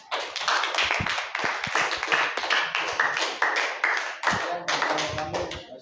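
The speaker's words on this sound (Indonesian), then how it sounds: "tepuk tangan." Classroom applause: many hands clapping steadily and loudly for about six seconds, a dense crowd of claps with no speech.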